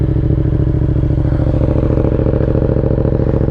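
A 2019 Yamaha MT-07 with a partial track setup rides along, its engine a loud, steady, close drone with rhythmic low pulsing and no talk.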